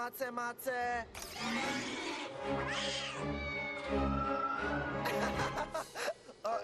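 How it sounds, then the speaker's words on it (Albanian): A cartoon cat in an Albanian-dubbed PJ Masks episode meows and yowls repeatedly, drawn-out wavering cries up close, with some chatter and busy background noise around them. "Oh, një mace tjetër për të trembur."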